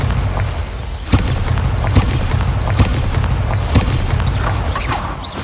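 Repeated booming blasts from the Bombarda spell in the Hogwarts Legacy video game, several loud thuds about a second apart over a dense, rumbling battle din.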